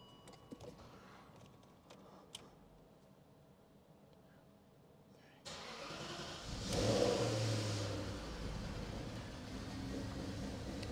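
A BMW X5 4.6is with a manual swap sits quietly with small clicks before its engine cranks and starts about halfway through, then settles into a loud, close, rough idle with a brief rev.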